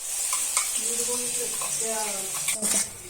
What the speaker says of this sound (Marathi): तर मसाला असा भाजून घ्यायचा, कांदा, टोमॅटो, खोबरं.